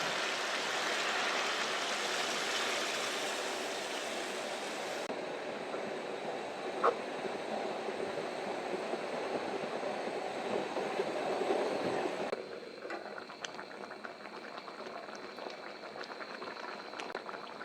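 Hot water poured into a pan of desi chicken curry bubbles and sizzles in a steady, close, continuous hiss that eases slightly partway through and runs on without any talk.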